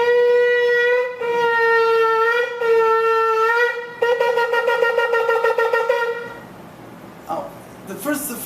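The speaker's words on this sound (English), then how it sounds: "if you listen to people blowing shofar" A shofar blown in several long, steady blasts with short gaps, loud and close, followed by choppier broken notes and then a few faint sounds as it trails off.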